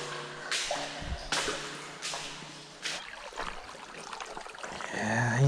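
A tiny creek less than an inch deep trickles over rocks out in open country, a steady soft flow with a few louder splashy bursts, heard close and alone.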